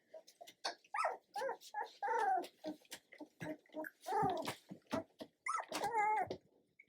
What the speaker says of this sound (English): Yeah, that little puppy's got himself lost.